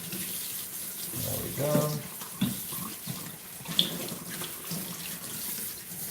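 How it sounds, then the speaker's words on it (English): Tap water runs steadily to rinse a dog during grooming, a continuous close hiss with small splashes, while a person speaks briefly over it. "you want to rinse for at least twice as long as it took to lather them"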